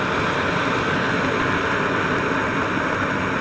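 A backpacking stove burns at full power with a steady, dense jet-like roar, loud and unbroken throughout with no voices.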